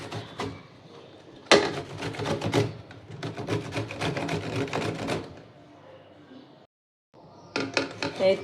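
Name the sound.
grating guava by hand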